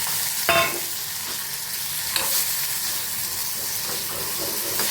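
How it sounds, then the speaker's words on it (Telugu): Sliced okra frying in a pan with a mustard, dal, cumin and dried chilli tempering, a steady near sizzle and hiss with a couple of sharper crackles and stirring scrapes. "తర్వాత బెండకాయలు,"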